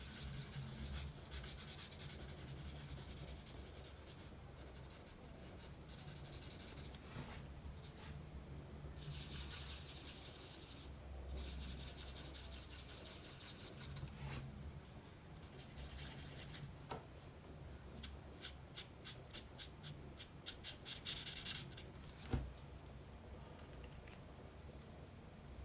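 Winsor & Newton Promarker broad nib colouring a large circle on paper, close, soft continuous rubbing and scratching strokes in repeated bursts.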